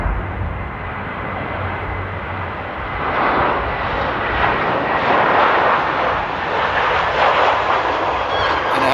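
Austrian Airlines airliner arriving from Vienna on approach to Amsterdam Airport in windy weather, a steady broadband jet roar that swells louder midway and holds, with wind noise throughout and no talk.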